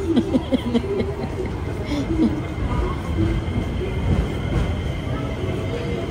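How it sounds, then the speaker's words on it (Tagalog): A train rumbles through a Japanese underground station with a low steady roar and faint wheel squeals, while people chatter nearby. "Okay, another train."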